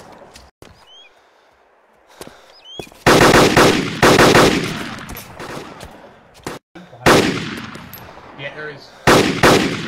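Bursts of automatic gunfire from the video game DayZ, with several loud rapid volleys and single sharp shots separated by quieter gaps, and brief speech in between.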